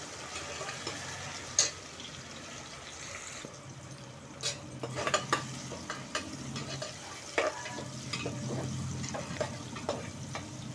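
Tomatoes fry over medium heat in a pan for a chicken curry, a soft continuous sizzle punctuated by several distinct scraping stirs and clacks of a spoon against the pan, close by with no talk.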